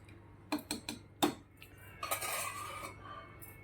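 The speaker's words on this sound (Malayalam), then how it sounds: "ഇനി ഞാൻ ഇതൊന്ന് അടച്ചു വെച്ച് വേവിച്ചെടുക്കാം." Metal pot and lid for a matki and potato masala, a few sharp clanks and taps as the lid is set on, then a brief scraping rattle, close and clear.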